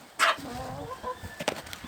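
Chickens cluck and squawk nearby, with a rooster present, starting with one sharp loud call followed by scattered softer clucks and rustling.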